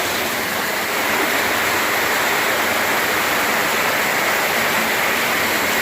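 A waterfall with roughly a six-foot drop pours into a West Virginia canyon, a constant loud broadband rush of falling water heard nearby without a break.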